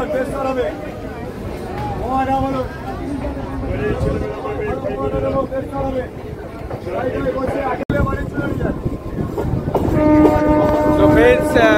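A local train rumbles and clatters as it moves off from Lakshmikantapur station toward Namkhana, with a horn sounding near the end and people talking over the noise.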